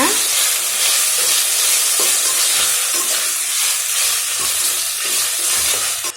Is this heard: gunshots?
no